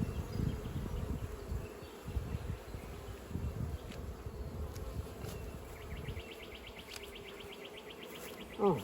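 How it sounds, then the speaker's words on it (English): Many bees hum around an open beehive during a hive check, a low, wavering drone close to the ear that swells and fades, with a few faint higher chirps and a brief louder rustle at the end. "A lot of bees in this hive."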